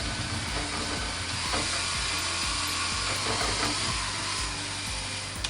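Drill fitted with a mixer paddle stirring epoxy at slow speed, a steady whirring motor drone with faint scraping against the container, continuous and fairly quiet throughout with no speech.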